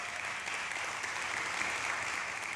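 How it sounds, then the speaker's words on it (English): Steady applause from an audience at a mastermind event fills the room as a dense, even wash of clapping with no talking. "Round of applause."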